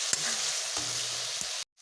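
Broiler chicken pieces fry in a pan with a steady, loud sizzle and crackle, a few utensil knocks cutting through before the sound abruptly stops.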